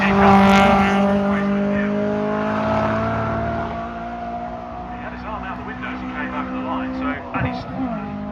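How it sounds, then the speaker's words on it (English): Race car passing at a time attack event, engine tone loud at first then sweeping away and fading into the distance, with continuous commentary spoken over it. "Fraser McNeil crossing the line with his arm out of the window"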